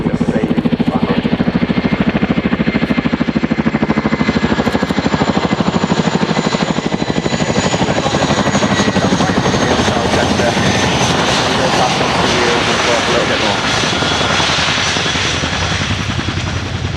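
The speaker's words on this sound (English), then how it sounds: "Generally we don't run a Chinook, but it's really heavy." An RAF Chinook HC4 twin-rotor helicopter landing at the Dunsfold Wings & Wheels air show in 2015, a loud, steady, close roar of engines and rotor chop filling the whole stretch.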